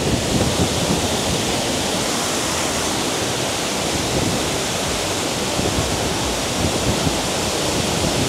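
Kuang Si Waterfall in Laos roars as a dense, unbroken wash of falling water, loud and close, with a steady broadband rush and no pauses or voices.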